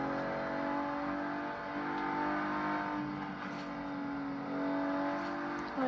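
A Volvo in Forza Horizon 3 holds a steady engine hum with slight rises and falls in revs, moderately loud and continuous, with no voices over it.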